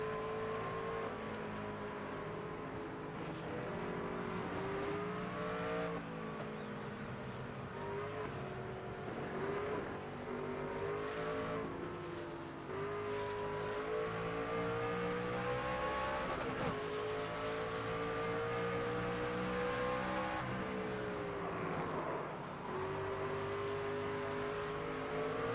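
A race car engine in the NASCAR 25 video game drones steadily at high RPM, its pitch climbing and dipping as it revs through shifts, loud and continuous with no talking.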